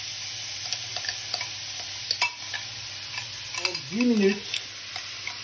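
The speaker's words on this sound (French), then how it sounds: "L'huile est chaude. Je mets le céleri, les carottes et les oignons." Celery, carrots and onions frying in hot garlic-scented olive oil give a steady close sizzle with light stirring clicks, while a person speaks briefly near the end.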